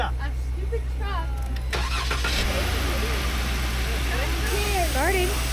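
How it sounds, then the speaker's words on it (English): A Power Wagon truck's engine cranks and catches, settling into a steady idle, with people talking over and around it throughout. "Start it up. Yeah. A stupid truck."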